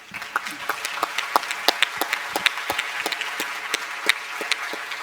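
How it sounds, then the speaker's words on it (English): A small audience at a panel on the Singapore Convention on Mediation gives sparse, scattered applause, individual hand claps standing out clearly against a quiet room. "So let's give Natalie a round of applause."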